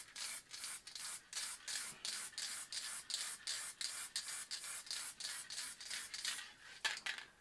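A can of water-based spray paint hisses onto canvas in a steady series of close, rhythmic bursts, about three per second, with brief gaps between them.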